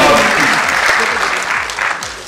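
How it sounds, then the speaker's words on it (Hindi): Loud audience applause at an awards ceremony, a dense wash of clapping that fades slightly toward the end. "मेरी तालियां बजनी चाहिए, आवाज सुनकर ही।"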